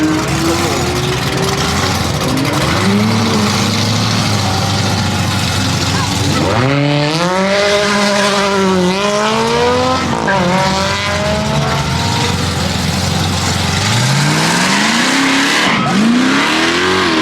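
GT3 supercars at a supercar festival rev and accelerate in a loud, continuous stream of engine noise, with rising and falling pitch sweeps as cars launch past; tire squeal is not clearly distinct from the engines.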